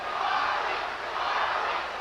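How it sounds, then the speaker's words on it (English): A boxing arena crowd at the 1980 Muhammad Ali vs. Larry Holmes fight chants for Ali, a steady, dense roar of many voices rising and falling slightly throughout, with no clear individual speech. "The crowd chants. You hear them."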